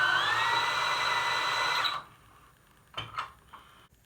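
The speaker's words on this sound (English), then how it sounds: "I'm going to trim each and every one of them. And I'm only shaving about 4 thousandths off all these cases on average" A power case trimmer whirs steadily while trimming .308 rifle brass cases, then stops abruptly, followed by a few light clicks and taps of brass being handled.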